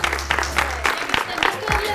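A crowd at a school show applauds the winner, a dense wash of clapping heard under a presenter's loud voice over a brief stretch.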